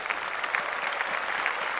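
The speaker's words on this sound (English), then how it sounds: "Let's clap that up." Brief, steady clapping on a sports podcast celebrating a celebrity pregnancy, a continuous patter of hands with no voices over it.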